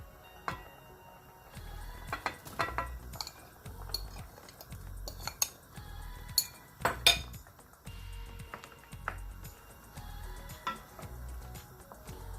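Boiled potatoes tipped into a pot of softened chickpeas for chotpoti, with scattered metallic clinks and taps of a spoon against the pot and soft thumps, close and intermittent with no talking.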